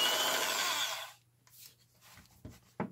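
A small electric motor on a DC power supply whirs at low speed for about a second, then winds down and stops, followed by a few faint clicks and handling knocks.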